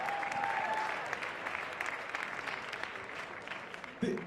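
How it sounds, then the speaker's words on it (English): An audience at a large public event breaks into sustained applause, a dense wash of clapping that holds steady and slowly thins toward the end. "Give yourselves a round of applause for being here"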